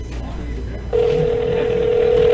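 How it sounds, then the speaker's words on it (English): An iPhone call rings out over a weak speakerphone during a podcast recording, a steady electronic tone starting abruptly and holding continuously, fairly loud and close, with faint room noise beneath. "It's ringing."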